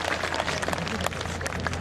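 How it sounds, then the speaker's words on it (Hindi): Applause from the crowd at a Rajasthan political rally in Shahpura, greeting a birthday wish for a local MLA; a steady, moderately distant wash of clapping that continues evenly through the clip with a faint background hum. "एक बार जोरदार तालियों से उनके जन्मदिन की शुभकामनाएं दीजिए।"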